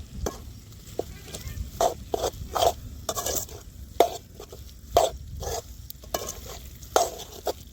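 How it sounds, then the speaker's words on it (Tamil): Soya chunks (meal maker) stirred in hot oil in a pan: repeated scraping strokes at an uneven rhythm over a steady close sizzle, with no voices. "இந்த மாதிரி நல்லா எண்ணெய் பிரிஞ்சு வந்த அப்புறம் சோயாபீன் சேர்த்திக்கலாம். இது நல்லா கலந்து விட்டுடலாம்."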